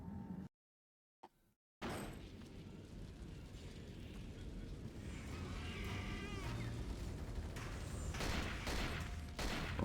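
Heavy, sustained blasting and gunfire from the survival horror video game Cold Fear rumble on continuously after a brief silent gap, with rough crashing bursts and a voice talking over part of it.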